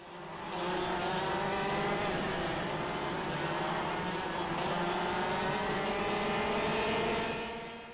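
Racing kart engine in the KartKraft VR sim racing game, a steady high-revving buzz with layered harmonics that holds loud and constant for several seconds, fading in at the start and out at the end.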